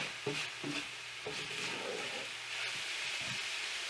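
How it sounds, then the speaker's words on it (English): Ground beef and onions with salt and pepper sizzle in a pan for a gluten-free green chili casserole, with a steady frying hiss broken by a few scraping stirs, close and moderately loud. "add in your onions, sprinkle on some salt and pepper, stir those around, get them really mixed in and sauteed"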